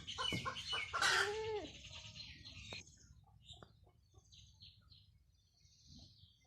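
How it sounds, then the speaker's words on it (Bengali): A hen clucks loudly and rapidly up close, then trails off into fainter, scattered clucks and farmyard background sounds. "আর মুরগিটা কেমন শুরু করলো কর কর কর"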